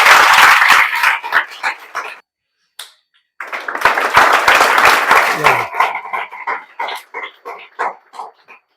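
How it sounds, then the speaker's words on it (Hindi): An audience at a ceremony honouring a student claps loudly in a dense burst, breaks off briefly, then resumes in a full round before thinning into scattered individual claps. "तो अनिकेत के लिए एक बार जोरदार ताली आप लोग बजा दें"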